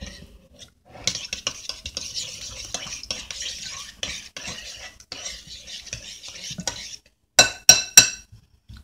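Food being stirred in a bowl with a utensil, a steady scraping and clinking run of strokes followed by several sharp taps against the rim near the end, close and fairly quiet with no talk.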